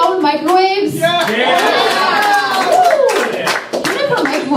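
A comedy club audience answers with clapping, whoops and overlapping cheering voices, the applause swelling and then thinning out, with crowd chatter mixed in.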